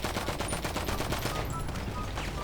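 Rapid automatic gunfire in the game GTA V on a FiveM server, dense bursts of repeated shots filling the whole stretch, loud and close, with faint excited talk underneath.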